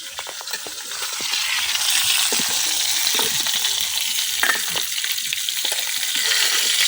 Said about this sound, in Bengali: মাছগুলা উল্টায় পাল্টায় খুব ভালোভাবে ভাজা নিছি